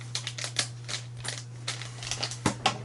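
Scissors snip through slime in a quick run of about a dozen sharp, close clicks, set over a low steady hum with no voices.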